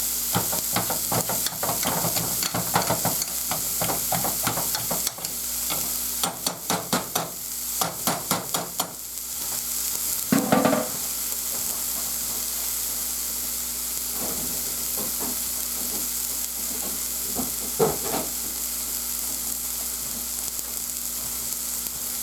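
Steak and potatoes sizzling in a pan, a loud continuous hiss broken by bursts of scraping and clattering from stirring, then settling into a steady sizzle with a few more clinks, no talk.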